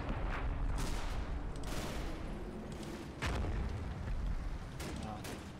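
Artillery shell from a Hellcat exploding during a wargame battle near a Panther tank, heard as heavy booms and rumbling blasts inside dense, continuous battle noise.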